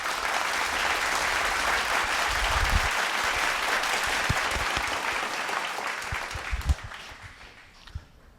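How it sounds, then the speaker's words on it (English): An audience at a conference event applauds a speaker, a full, sustained roar of clapping that holds steady and then tapers off toward the end. "Can we give a hand of applause for Mr. Clinton Lacey?"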